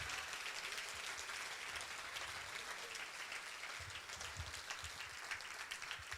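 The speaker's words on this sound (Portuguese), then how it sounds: "aplauda ao Senhor com muita alegria nesta noite" Faint, steady applause from a church congregation rolls on continuously, soft and distant, with a few low thumps underneath.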